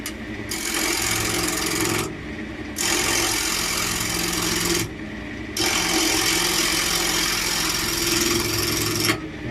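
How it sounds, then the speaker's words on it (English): A freshly sharpened gouge carves dense, hard oak for a small ashtray, giving close rasping cuts in three long strokes separated by brief pauses, with no voices. "Love what you can do with a nice freshly sharpened gouge."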